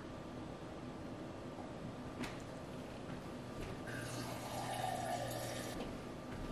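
Tap water runs into a glass to fill it, giving a steady, close hiss and trickle that carries on for several seconds with no talk over it.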